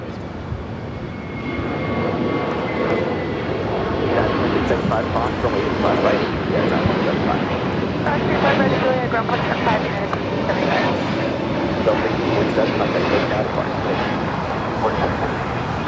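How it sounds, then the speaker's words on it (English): A year-old Delta Airlines Airbus A321neo jet taking off from LAX, its engine roar building into a sustained, broad rumble with someone talking over it throughout. "Next takeoff is a flight heading to Salt Lake City. Delta Airlines flight 1647. A 1-year-old A321 Neo."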